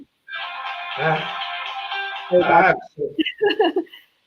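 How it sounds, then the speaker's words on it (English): A mobile phone ringtone rings during an interview, a steady multi-tone melody for a couple of seconds, followed by a person speaking briefly. "Let me turn my phone off."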